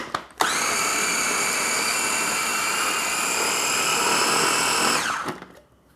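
A food processor whirs a sandwich-torte mixture with olive oil, salt and pepper, a loud, steady motor whine held for about five seconds before spinning down.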